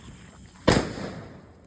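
A paper firecracker goes off at a family Diwali celebration: one sharp, loud bang, then a short rushing tail that fades out over about a second after a quiet lead-in.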